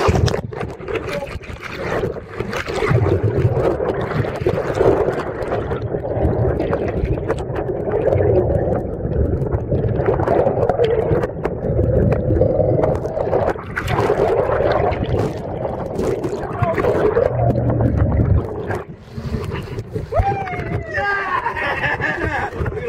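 A fishing boat's engine idles in neutral at sea during a small blue marlin release, a steady low rumble with wind and water noise running throughout, while people talk over it close by.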